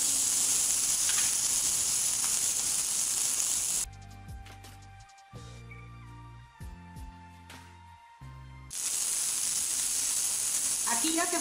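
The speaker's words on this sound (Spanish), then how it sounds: "Vamos a freír nuestra cebolla, el ajo y el chile." Onion, garlic and chile fry in oil in a pan, giving a loud, steady sizzling hiss at the start and end, with a quieter stretch of clatter in between.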